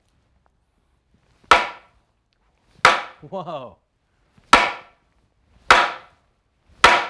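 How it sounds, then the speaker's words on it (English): A hammer hits a tough panel five times, each a sharp loud crack with a short ringing tail, spaced about a second apart in quiet surroundings, and a brief exclaiming voice after the second strike. "can smack this with a hammer and it takes a heck of a shot and it won't break"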